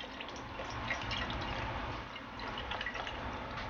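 Huadiao Shaoxing wine is drizzled over cleaned fish in a small bowl with ginger slices, scallion pieces and salt, giving a faint, steady soft trickle of liquid.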